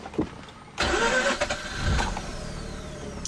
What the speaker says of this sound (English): the rotary engine is probably one of the weirdest sounding engines at startup